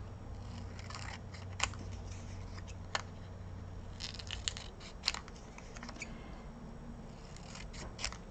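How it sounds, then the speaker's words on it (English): Small scissors snip out a paper triangle for a Christmas paper ball ornament, quiet scattered crisp cuts over a soft low hum, with no talking. "We're going to cut this triangle out."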